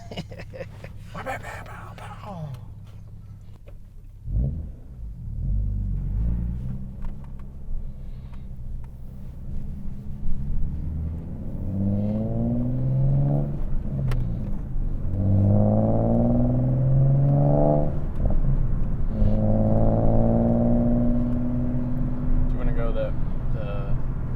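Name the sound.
Nissan 370Z NISMO engine with Fast Intentions exhaust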